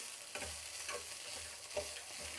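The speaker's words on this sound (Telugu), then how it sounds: "మనము పచ్చి కొబ్బరి తురుము వేసినాక ఎక్కువ వేయించేద్దండి" Fresh grated coconut roasts in a pan, a faint steady sizzle broken by several soft rhythmic stirring scrapes, close and quiet with no talk.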